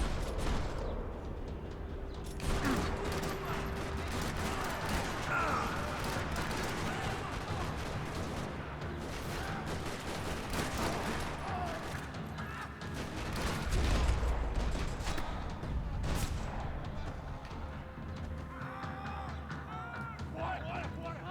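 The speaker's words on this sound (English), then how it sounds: "Another parking lot rattling with gunfire." Max Payne 3 shootout in a parking lot: continuous rattling gunfire with sharp bursts and repeated shots, dense and fairly loud, with a voice speaking over the fighting.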